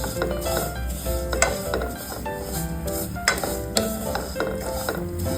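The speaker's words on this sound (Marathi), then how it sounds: "आपल्या शेवया आपण भाजून घेऊया." Vermicelli roasts in hot ghee, a soft sizzle under scraping and clinking as a spoon stirs the pan, close and steady with occasional sharper knocks.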